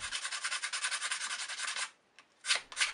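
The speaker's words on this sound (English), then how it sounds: "I go over the piece with the finest grit sandpaper I can find" Fine sandpaper rubs briskly back and forth on a small hard shell bead, a wampum button, in quick, even strokes, pauses briefly, then resumes with a few more close strokes.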